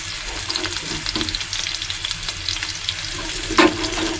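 Onions frying in a pan with ginger, garlic and chilli paste, a dense, steady crackling sizzle with occasional soft stirring scrapes and one brief knock near the end, close and even.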